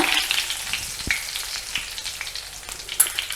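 Cut dried red chillies and curry leaves crackle and sizzle in hot oil for a tomato curry, a steady close frying hiss broken by small spattering pops and a few stirring knocks.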